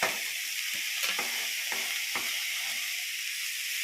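Carrots and onions sizzle steadily in a pan for kodo millet upma, a continuous bright frying hiss broken by a few soft stirring clicks and scrapes.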